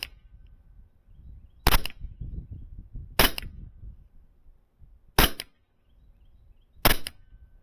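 An airsoft Glock 17 pistol fires four sharp, evenly spaced shots, each standing alone against a quiet background with faint rustling between them.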